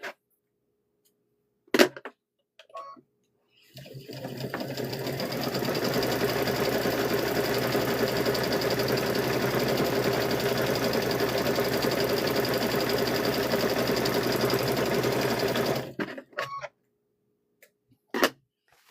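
A sewing machine stitches around all four sides of a hummingbird and butterfly quilt block, running continuously for about twelve seconds. A few isolated clicks come before and after the run.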